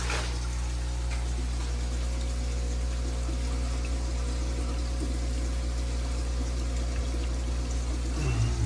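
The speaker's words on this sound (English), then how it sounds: "So I start pumping water up here." Water pumped through a home aquarium sump tank system runs as a continuous low gurgle and trickle over a steady pump hum, close and even throughout.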